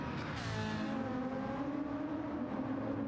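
Race car engines in Gran Turismo 7 drone loudly and steadily as the cars brake into a chicane mid-battle, a dense, continuous close-up engine roar.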